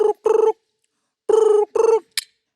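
A voice mimics a telephone ringing in two double bursts with a pause between them, loud and close, followed by a short high chirp, performed at a comedy show.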